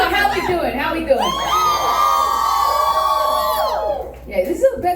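A concert crowd at The Funhouse in Seattle cheers and whoops loudly after a stripped-down live song, a sustained wash of shouts and yells that swells for a few seconds before fading.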